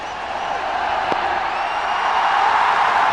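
A huge crowd of tens of thousands at an India vs England cricket match in 2016 roars in a continuous, loud, swelling wash of cheering that builds slightly toward the end.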